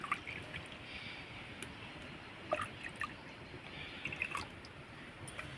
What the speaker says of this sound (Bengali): এই বাটি মাপ করে দিয়ে দিব 2 বাটি দুধ